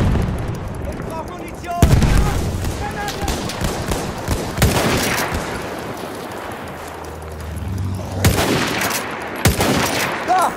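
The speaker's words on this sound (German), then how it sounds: "Da! Ein Maschinengewehr!" Battlefield 1 gunfight with machine gun fire, sharp loud bursts and broadband cracks at about 2, 4.5, 8.5 and 10 seconds over a churning din of distant battle, with shouted voices mixed in.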